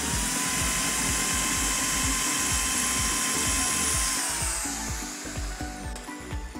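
An Ingco ID 6808 corded electric drill, 680 watts, whines loudly and steadily as it bores into a piece of wood, with a ratcheting, chattering texture throughout. Near the end it eases off and slows.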